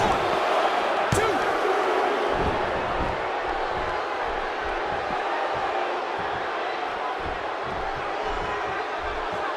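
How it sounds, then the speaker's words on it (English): A large wrestling arena crowd roars and cheers during a handicap match, a dense, loud, sustained wall of noise with scattered shouts and thumps, commentary voices talking underneath. "by the sound of this crowd, I think they're getting what they wanted"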